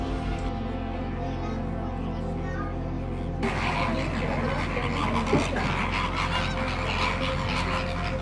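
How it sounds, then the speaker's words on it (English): Flamingos at a Dubai wildlife sanctuary near feeding time give honking, goose-like calls over a low steady hum, with a denser burst of calling and background bustle in the second half. "You can observe the flamingos are getting little active here as it is close to feeding time."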